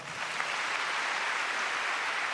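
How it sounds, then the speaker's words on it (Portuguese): Audience applause at a Portuguese-language religious talk in São Paulo, a steady, even wash of many hands clapping at moderate volume, with no speech over it. "Uma salva de palmas."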